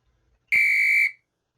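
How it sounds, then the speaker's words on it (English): A single whistle sound effect in a news video edit: a bright, steady tone lasting about half a second, loud and alone, starting and stopping abruptly against silence. "As soon as that whistle ends, we can put an out point here."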